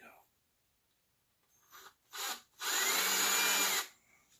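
A power drill whirs briefly twice, then runs in one sustained loud burst of about a second before stopping, close by.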